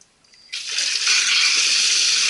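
Cold water rushing into a Maytag Bravo XL top-load washer during a repair check, a brief click followed by a strong, steady close-up gush of flowing water.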